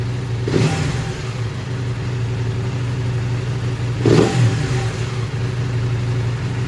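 A 2019 KTM 790 Adventure S motorcycle engine idles steadily with a low drone, then gets two short throttle blips, one near the start and a stronger one near the end, each rising and falling back quickly.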